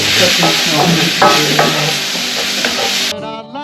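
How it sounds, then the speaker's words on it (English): Onions and sage frying in a pan, a steady loud sizzle with scraping stirs over it, cutting off abruptly near the end. "And then we put the onions and sage in. Make it caramelized."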